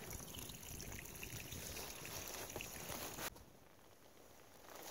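Small trail water source on the Appalachian Trail trickling steadily, close and continuous, with a broadband splashing wash that drops to a quieter, thinner flow partway through; no talking.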